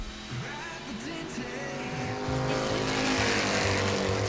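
Super stock race car, number 56, lapping the track at New Smyrna during qualifying, its engine a loud continuous roar whose pitch shifts and rises as it accelerates, close and unbroken.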